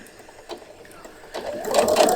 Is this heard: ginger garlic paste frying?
no